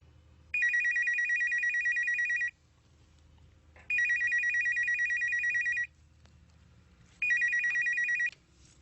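A telephone rings in three long bursts of bright, trilling bell tone separated by short silences, heard clearly indoors with no voices.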